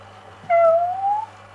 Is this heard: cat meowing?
yes